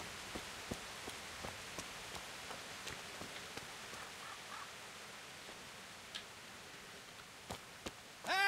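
Steady soft rain in the medieval video game Kingdom Come: Deliverance, a faint hiss with scattered light drip ticks, rather quiet and without talk.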